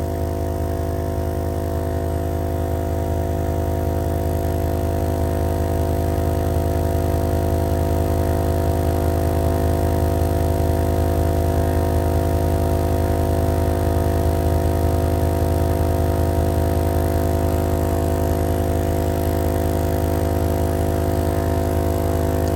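A portable car and truck tire air pump runs continuously at a steady, loud, droning buzz with strong low tonal hum, unchanging throughout with no talk.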